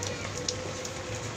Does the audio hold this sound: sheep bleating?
no